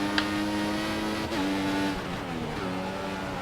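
A Formula One race car in the F1 2014 video game at the Singapore Grand Prix, its high-pitched engine droning steadily and shifting pitch as it gets back on the power, loud and close with no talk.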